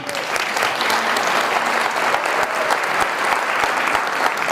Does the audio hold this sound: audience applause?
yes